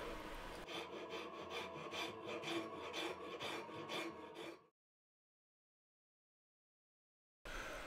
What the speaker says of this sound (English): Finish shaping and fine tuning of the lower bow is done with a rasp.